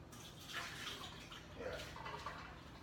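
Tap water runs into a cooking pot in a kitchen, a faint, continuous splashing trickle heard alone at low volume.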